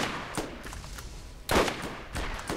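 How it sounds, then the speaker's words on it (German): Sniper rifle shots in the Borderlands video game, sharp loud cracks at irregular intervals, with one especially heavy blast in the middle and faint game ambience between them. "Erstmal direkt ins Maul geschossen."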